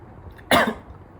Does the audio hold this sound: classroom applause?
no